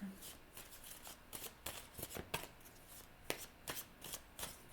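Close, crisp card shuffling for a reading, with a rapid series of riffling snaps and soft slaps as cards are handled and drawn, quiet overall with faint speech in the background.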